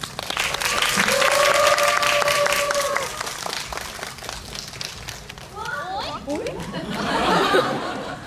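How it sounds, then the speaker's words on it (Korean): An audience in a cinema claps steadily to welcome guests onto the stage at a film Q&A screening, with a sustained whistle or shout, scattered chatter and laughter mixed in before the clapping swells again. "큰 박수로 환영 부탁드립니다"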